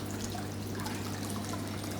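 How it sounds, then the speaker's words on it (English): Aquarium filter outflow turned up to full power, water splashing and trickling steadily with a constant low pump hum underneath, close and continuous with no talking. "It's getting stronger, it's splashing all over the place."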